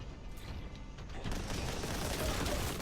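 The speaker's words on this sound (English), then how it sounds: "As you can tell, lots of explosions" Dense, continuous gunfire and booming explosions from Warhammer 40k: Boltgun on Nintendo Switch, loud and chaotic with no pauses.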